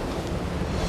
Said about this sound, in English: powerful gusts race through the bay